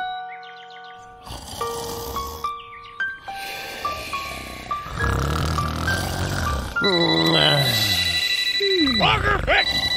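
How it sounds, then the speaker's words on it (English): In an animated Boonie Bears film, a telephone rings with bright electronic tones among cartoon voices, grunts and whooping sound effects, busy and fairly loud. "Logger Vick, pick up the phone"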